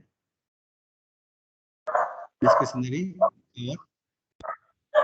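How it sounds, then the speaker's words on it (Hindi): A dog barks in short bursts, mixed in with a teacher speaking Hindi during an online lecture, the barks close and fairly loud against otherwise quiet surroundings. "कुत्ता भौंक रहा है।"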